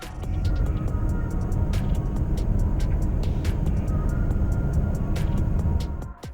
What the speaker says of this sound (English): This Infiniti. Gentle throttle,